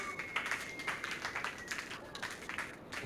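A live club audience gives a warm round of applause for guest Bryan Duncan at Club 440, a steady wash of dense clapping with a few sharper claps standing out over about three seconds.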